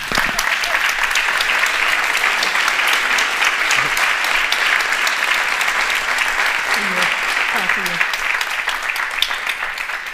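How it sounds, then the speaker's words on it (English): A crowd gives a sustained round of applause for a panel of speakers at a National Coming Out Day event, dense steady clapping filling the room for about ten seconds with faint voices mixed in. "let's give our panelists a round of applause."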